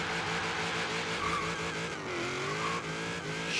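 A revving car engine in a Chevy Bel Air gasser build in Forza Horizon 3 roars continuously during a burnout with a high tire squeal layered on top, steady and loud with no talking.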